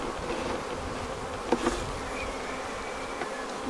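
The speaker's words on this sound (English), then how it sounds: "The bees, of course, aren't happy because they spent a lot of time building that up." Steady buzzing from many honeybees disturbed during hive work on an Apimaye hive, a continuous drone throughout with a couple of brief louder bumps midway, fairly close.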